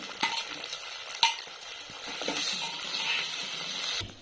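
Tomatoes frying in a pan for soya chunk biryani, with a low sizzle under repeated scraping and clinks of a spoon stirring against the pan, close by and without talk.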